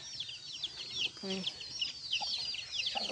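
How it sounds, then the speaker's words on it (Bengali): Many hens and chicks cluck and peep at a home yard, busy overlapping calls nearby with a brief low voice in the middle. "অনেক মুরগি পালে খালাম্মাই"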